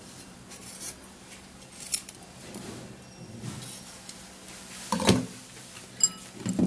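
An ingredient for a belly-fat drink being peeled by hand, giving soft, close scraping and rasping strokes that come intermittently at irregular intervals, with a few sharper scrapes near the end.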